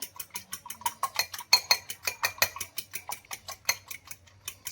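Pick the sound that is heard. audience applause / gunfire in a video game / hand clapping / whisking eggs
whisking eggs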